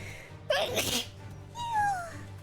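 One sharp, close human sneeze bursts out abruptly, followed by a quieter whistling, gliding tone and faint background hum.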